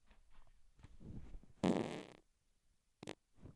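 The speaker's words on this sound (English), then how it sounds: "now I'm gonna fart. I'm gonna really fart this time." Human fart during a game livestream, one loud, rough, sputtering burst close to the microphone, surrounded by quiet room noise and a few faint clicks.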